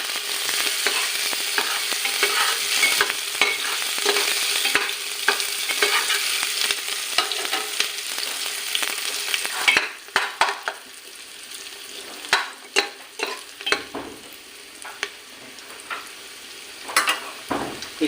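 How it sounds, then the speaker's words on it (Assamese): Ginger garlic paste fries in a pressure cooker for a broiler chicken curry, a bright continuous sizzle punctuated by repeated scraping stirs and clinks of a spoon against the metal pot, with no speech. "এতিয়া আদা নহৰু পেষ্টখিনি দি দিওঁ।"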